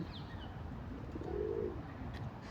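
A single soft, low pigeon coo sounds near the middle, faint against quiet outdoor background noise.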